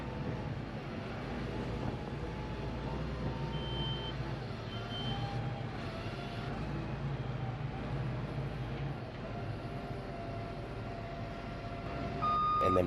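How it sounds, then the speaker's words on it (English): A truck backing up toward a trailer, giving repeated steady reversing beeps over a low engine drone, heard at a moderate distance throughout. "So basically what I have him doing is backing up."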